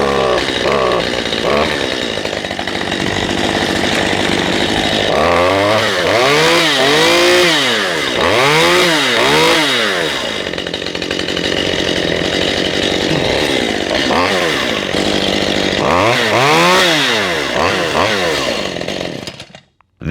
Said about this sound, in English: I've got my chainsaw working again after 9 years.